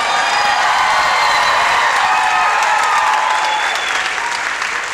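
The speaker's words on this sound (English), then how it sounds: "I need a little bit more applause than that." Audience applause at the Georgia Entertainment Gala awards, a loud sustained crowd clapping with some cheering mixed in, steady throughout without pause.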